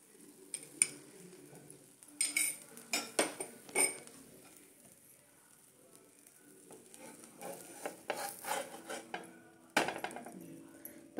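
Metal spatula pressing and tapping a podi dosa topped with onion, coriander and ghee on a hot pan, sharp clustered clinks and scrapes in bursts over a faint sizzle, close and fairly loud.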